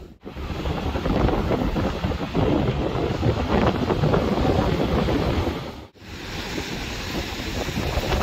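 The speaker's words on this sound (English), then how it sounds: "It's a bit windy out here, you can hear." Strong wind buffets the microphone on a beach at Virginia near Durban, KwaZulu-Natal, with surf roaring underneath in a loud, constant rush that dips briefly once before surging back.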